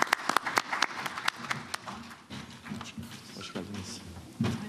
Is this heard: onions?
no